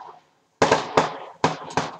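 New Year's fireworks bursting outside an open window, four loud booming blasts in quick irregular succession after a brief quiet, each with a rumbling tail.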